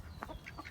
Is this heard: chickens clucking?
yes